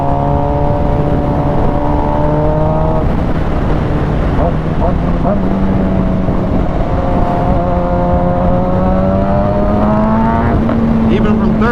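A 2011 Suzuki GSX-R 750 motorcycle pulls hard in third gear. The close engine whine climbs steadily in pitch with a brief dip partway through, over loud wind rush.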